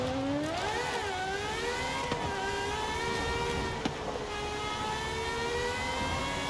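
A GMA T.50 supercar engine screams in Forza Horizon 5, revving high with rising and falling pitch sweeps and sharp gear-change blips, loud and continuous throughout.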